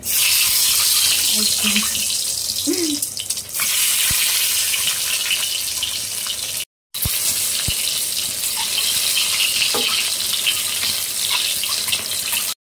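Eggs fry in hot oil in a pan, giving a loud, continuous hiss and crackle close by that runs steadily, with a brief break partway through.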